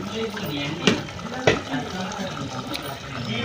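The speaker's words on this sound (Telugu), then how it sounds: "ఇప్పుడు ప్లేట్ తీసి ఒకసారి కలపెట్టుకున్నాము" A naatu kodi chicken curry is stirred in a pot, with wet scraping and sloshing of thick gravy at close range and two sharper knocks of the spoon against the pot partway through.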